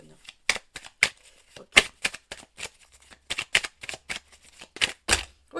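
Tarot cards being shuffled by hand, a close series of crisp riffling bursts in an uneven rhythm, with a brief spoken word in the middle.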